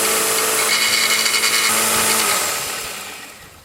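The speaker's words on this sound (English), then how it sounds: "this little 1x30 belt sander with a cute little miter gauge" A small Vevor 1x30 belt sander grinds steel as a lathe chisel is sharpened, a loud continuous abrasive whir that holds steady, then fades as the tool is lifted away.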